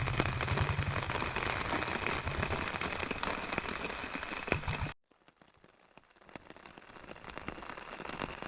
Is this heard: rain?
yes